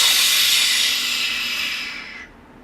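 A person exhales a long, loud, steady hiss through the teeth, imitating a tea kettle during a vocal breathing exercise. It starts strong, slowly fades, then drops off abruptly near the end, close up with no talk.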